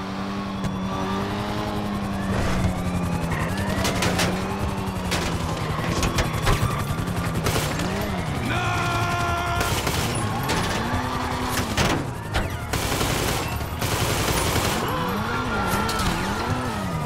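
Gunfire in GTA Online during a prison break heist, sharp game gunshots and bursts ringing out over steady engine and vehicle noise and a music-like bed, with a few loud cracks standing out.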